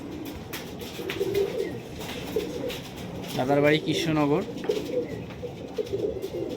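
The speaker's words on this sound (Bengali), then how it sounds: "দেখুন বন্ধ লেজের পায়রা, পুরো পুরো বন্ধ লেজের পায়রা" Closed-tail high-flying pigeons at a home loft in Krishnanagar coo in a rolling, throaty burst midway, fairly near, while someone talks over them and faint bird noise fills the background.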